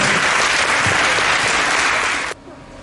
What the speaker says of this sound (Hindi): सभी छात्र और छात्राएं उनका तालियों द्वारा स्वागत करें